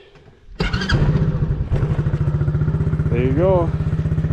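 Small Chinese ATV engine cranking and firing up without a key, then settling into a loud, close, steady putter with a brief rev near the end, someone speaking briefly over it.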